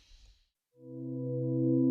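After a brief hiss and pause, a sustained synth pad swells in and holds a warm chord, its upper range muted and dull from an EQ shelving down the high frequencies.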